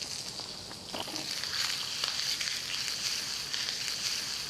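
Onions frying in butter in a hot pan for a burger, a steady close sizzle with soft crackling spatters, moderately quiet and alone.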